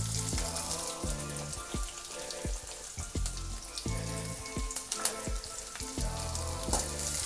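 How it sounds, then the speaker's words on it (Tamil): Onions frying in a pan after an egg, a dense, steady hiss of hot oil under repeated low spatula knocks and scrapes at an uneven rhythm, close and continuous, with no talking. "வெங்காயம் சேர்த்துட்டு நல்லா வதக்கி விடலாம்."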